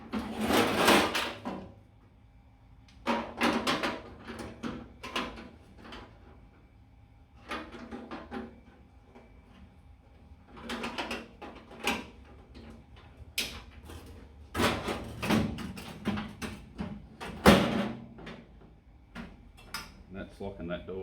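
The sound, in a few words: microwave oven door being closed and locked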